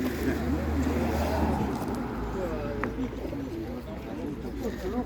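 Pigeons coo softly at a pigeon exhibition in Ivano-Frankivsk, amid a busy outdoor background with people talking nearby and traffic hum.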